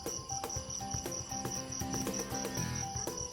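Many crickets and other insects chirp outdoors at night beside a Coleman Northstar gas lantern, a dense, steady high-pitched trilling with rhythmic pulses that carries clearly throughout, with no speech.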